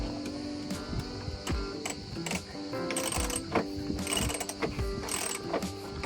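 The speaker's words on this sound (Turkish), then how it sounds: "Şu anda vincimiz gayet güzel çalışıyor." A winch running on a boat at a Greek island harbour, steady mechanical ratcheting and gear clicking with a rhythmic ticking texture, fairly quiet and close, with no speech.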